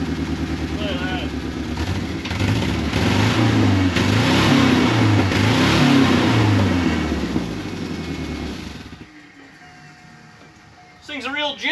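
A 1983 Turbo Coupe engine revs loud and close as the car pulls up through the gears, pitch rising and falling between shifts, then dropping away to a quieter idle with a brief burst at the end.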